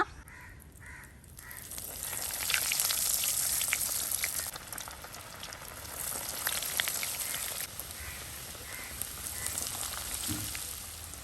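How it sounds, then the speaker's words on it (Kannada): Bread-based veg spring rolls deep-frying in hot oil, a dense, steady crackling sizzle that swells and eases over several seconds, with a few faint bird-like calls in the background and no talking. "ನೋಡಿ ಎಣ್ಣೆ ಒಳ್ಳೆ ರೀತಿಯಲ್ಲಿ ಕಾದಿದೆ. ಈಗ ಇದನ್ನು ಫ್ರೈ ಮಾಡುವ."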